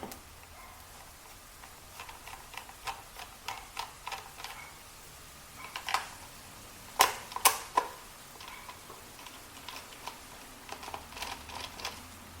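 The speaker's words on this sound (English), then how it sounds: "the next step is to remove the two screws inside here." Faint, sparse clicks and small metallic ticks from unscrewing screws in a steam mop housing, scattered through a quiet room, a few louder snaps near the middle, with no talking.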